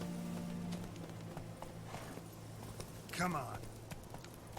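Roach the horse's hooves clip-clopping in The Witcher 3, a faint, steady rhythm of hoofbeats under a man's brief spoken remark and background game ambience.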